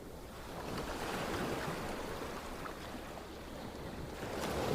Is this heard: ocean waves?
yes